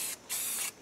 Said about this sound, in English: Now I'm going to spray in this whole area with the sand color.